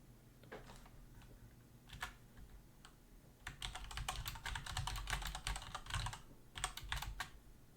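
Computer keyboard keys pressed while working in Blender, at first in sparse single clicks, then in a denser run of quiet clacks that includes shift and spacebar presses, recorded close to the keys with no talking.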